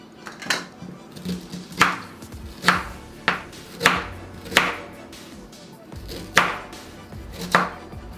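An ingredient for pineapple drink chopped into tiny bits on a board, about nine firm knife strikes at a steady unhurried rhythm, close and clear with no talking.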